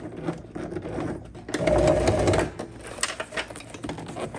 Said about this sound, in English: And you are top stitching through all three, the outer, the zipper tape, and the liner.